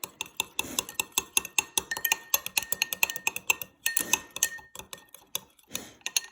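A utensil stirs soap and oil in a glass, giving rapid irregular clinks and taps against the glass, close and fairly quiet, with brief pauses and no talking.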